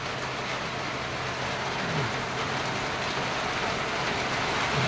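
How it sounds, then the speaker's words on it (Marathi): Rain pouring in Mumbai, a dense, steady wash of hiss with a faint low rumble beneath, constant and unbroken, no voices. "पाऊस आला इकडे."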